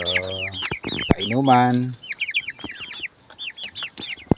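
Forty-five-day-old chickens in a farm pen cluck and chirp in quick, close bursts, several birds calling over one another while someone speaks briefly amid the noise.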